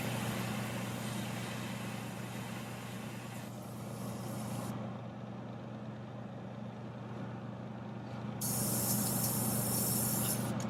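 An airbrush sprays paint onto a swimbait lure, producing a steady hissing rush of air that thins partway through, then returns louder near the end.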